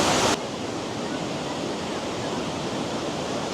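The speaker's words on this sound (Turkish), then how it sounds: "Şelale buradan akıyor" A waterfall in Cambodia pours in a loud, steady, broadband rush that fills the space close by, with no pauses from start to finish.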